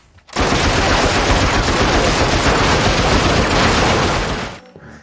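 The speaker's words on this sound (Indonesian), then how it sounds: "Takeda mencoba menembak mereka secara membabi buta" Rapid, loud gunfire from a Rurouni Kenshin film scene, with Takeda firing wildly in a dense, continuous burst that lasts several seconds before cutting off abruptly.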